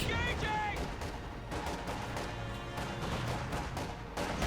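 Rocket fire and battle noise from the real-time strategy game Company of Heroes 2, a dense ongoing rumble of blasts and impacts with sharp bursts throughout and no clear talk over it.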